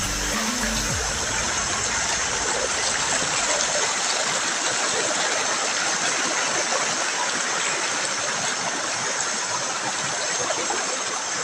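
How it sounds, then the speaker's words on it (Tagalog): A creek flooded after heavy rain rushes past in a loud, steady roar of churning water, close and unbroken throughout, with a brief low thump at the very start. "Palagi kasing umulan dito mga idol, kaya rumaragasa na yung sapa."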